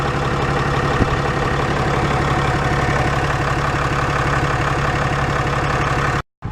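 A 2017 Ram 3500 Laramie Longhorn with the 6.7 liter Cummins turbo diesel idles steadily at close range, a continuous even rumble that holds for several seconds before cutting off abruptly near the end.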